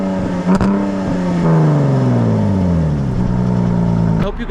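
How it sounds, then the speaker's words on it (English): Stock exhaust of a Jaguar F-Type S British Design Edition revving hard, a loud close engine note rising and holding, with sharp blips near the start and end and speech faintly mixed in. "That was the stock exhaust on a Jaguar F-Type S, not an R, this is an S."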